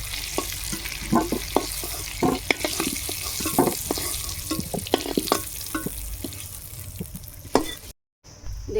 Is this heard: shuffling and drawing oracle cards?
no